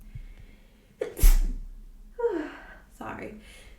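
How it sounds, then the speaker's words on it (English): A sharp inhale followed by a loud sneeze, then a second smaller burst and another breathy sneeze-like exhale, close and fairly quiet otherwise. "I feel like I'm gonna sneeze"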